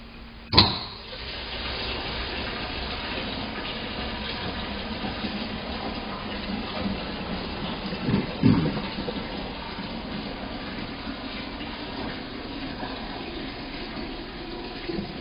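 Water pours steadily from regulated and non-regulated shower outlets side by side, a continuous hissing rush after a sharp knock at the start, with a brief clatter later and no talk.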